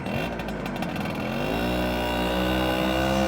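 A late-1970s two-stroke moped engine runs nearby with a buzzy, raspy note, revving briefly and then holding a steady pitch at moderate loudness.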